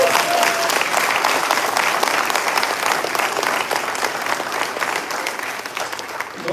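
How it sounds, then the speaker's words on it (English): Loud, sustained applause from an audience at a State of the North County civic event, steady dense clapping throughout with no talk over it. "Now give everybody a round of applause."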